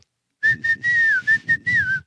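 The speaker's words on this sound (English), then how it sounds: "I whistle by sucking in" Whistling made by sucking air in, on a steady, slightly wavering pitch, broken into several short phrases with brief gaps, close by with a faint breathy undertone.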